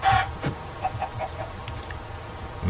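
Chicken clucking in a survival video game, several short clucks and squawks repeating over a busy game soundscape at moderate loudness, with no talking.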